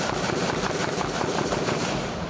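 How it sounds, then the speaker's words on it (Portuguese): A gunfire exchange in a Rio de Janeiro favela complex during a police operation, heard as dense, continuous bursts of shots echoing at a distance with no pause. "A troca de tiros não parava."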